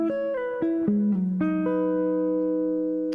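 An electric guitar plays a harmonized rhythm part, picking a few quick plucked notes and chords that ring out, with a final sustained note lasting over a second, close and alone.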